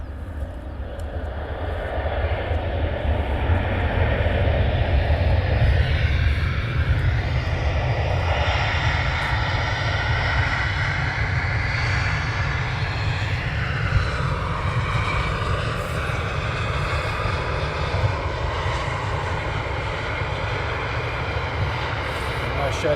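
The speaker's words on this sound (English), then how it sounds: "back on the reverse thrusts." A loud, continuous jet airliner roar as the plane lands at London Luton Airport with reverse thrust engaged, a broad rushing engine noise that holds steady and swells slightly.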